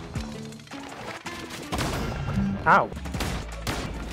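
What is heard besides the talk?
gunshots from a gun in video game Cult of the Lamb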